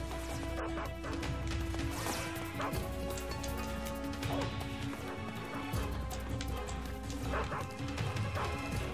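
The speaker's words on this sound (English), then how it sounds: "Oh god, dog." Dogs bark repeatedly in Metal Gear Solid 3, German Shepherds yapping amid a dense, loud wash of game music and sound effects, with a few crashes and whimpers.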